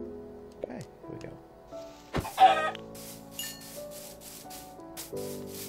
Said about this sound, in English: I'm gonna kill this chicken.